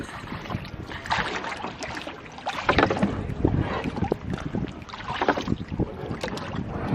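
Oars dip and pull through water as a small boat is rowed, with irregular splashes and knocks over gusty wind noise on the microphone, close and fairly loud.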